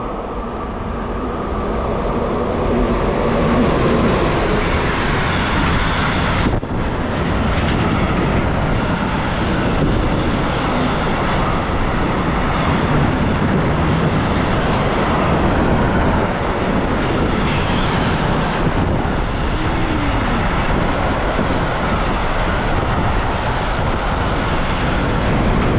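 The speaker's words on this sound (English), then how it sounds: "Oh, the train is coming." A freight train loaded with containers rolls into a cold German train station at night, a loud, unbroken rumble and rattle of wagons that holds steady for the whole stretch, with brief shifts as cars pass.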